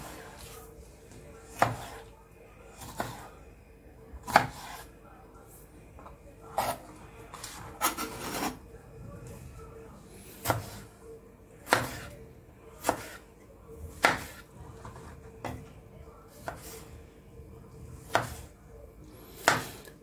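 A knife chops onion on a board in a kitchen, a series of sharp, close taps spaced about a second apart, some bunched faster, over a quiet background with no talking.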